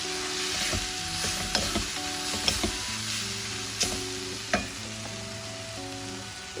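Spices sizzle in hot oil in a pan for dal, a steady close frying hiss with occasional clinks and scrapes of stirring, no voices.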